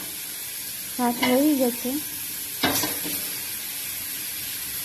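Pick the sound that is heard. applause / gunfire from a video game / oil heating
oil heating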